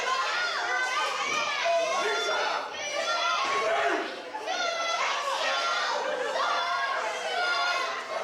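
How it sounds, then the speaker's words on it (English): A crowd at a QWA wrestling show jeers and shouts at a wrestler, a dense continuous roar of overlapping voices and calls with a brief dip partway through. "A lot of the crowd getting back on him."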